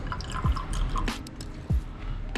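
Gasoline drips into a water-filled test tube during an ethanol-free motorcycle fuel test, two distinct close liquid plops about a second apart over quiet room noise.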